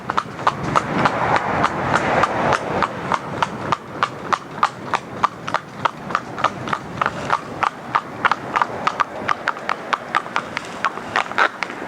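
A pony trots in harness along a road, its hooves striking the hard surface in a brisk, even clip-clop rhythm that stays close and clear throughout.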